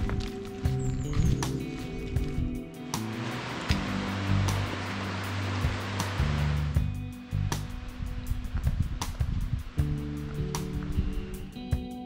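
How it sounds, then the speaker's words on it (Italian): The Arroscia waterfalls, a series of mountain cascades near Mendatica at about 1000 metres, give off a steady broadband rush of falling water, with a faint voice and some low handling noise over it. "forma una spettacolare serie di cascate"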